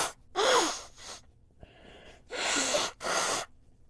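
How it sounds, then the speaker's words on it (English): A woman blowing her nose, several loud, close, breathy honking blasts with short pauses between them and no talking. "Nose blowing, sorry if you don't want to hear that."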